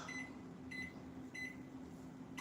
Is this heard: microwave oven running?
yes